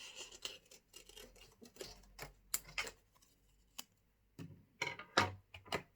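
Scissors snip through yellow card while a simple fish outline is cut for an under-the-sea craft, giving a string of quiet, close, crisp clicks and rustling cuts in an otherwise silent room.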